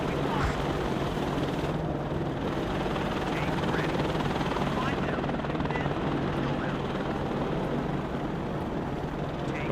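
An Apache attack helicopter flies in the WARNO war game, its dense rotor thrum and engine roar filling the scene loudly and continuously without a break.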